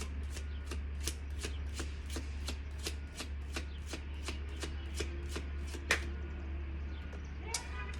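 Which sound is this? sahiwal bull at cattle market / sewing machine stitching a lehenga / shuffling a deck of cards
shuffling a deck of cards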